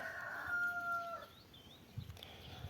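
A rooster crows once in the morning, clear but somewhat distant, followed by quieter background noise and a few faint knocks.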